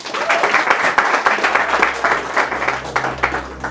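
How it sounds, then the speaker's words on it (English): An audience claps and applauds steadily for a few seconds, a dense patter of many hands at moderate volume. "Let's give them a clap one more time."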